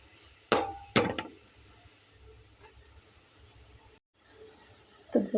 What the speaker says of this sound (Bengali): আমি এগুলোকে কিন্তু এখন চুলার জালটাকে লো করে দিয়ে নেড়ে চেড়ে আমি আরও একটু ডার্ক করে ভেজে নেব।